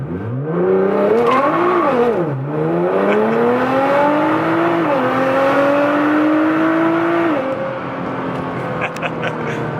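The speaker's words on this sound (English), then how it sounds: "So let's get on this road real quick just to show you how launch control looks from here." A Nissan GT-R launching under launch control, its engine revving hard and climbing steeply in pitch, dipping briefly at a gear change, then pulling steadily higher through the next gears, loud and close with no talk.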